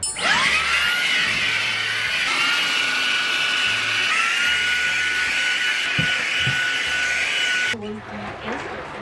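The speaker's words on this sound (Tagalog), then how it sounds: "Mas madaling mag-vacuum kasi kita nyo kung may alikabok pa o wala." A handheld vacuum cleaner with a built-in light runs continuously with a loud, high whine and faint handling knocks, then cuts off near the end, followed by a brief quieter tail.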